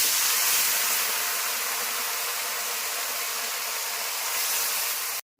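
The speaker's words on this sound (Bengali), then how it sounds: "তেল গরম হয়ে গেছে, এখন মাছ ছাড়ছি।" Tangra fish dropped into hot oil for frying gives a loud, steady broadband sizzle up close, running without pause before cutting off abruptly at the end.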